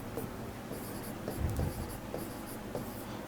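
Chalk or marker writing on a board during a grammar lesson, soft scratchy strokes coming in short irregular bursts at a steady, moderate level.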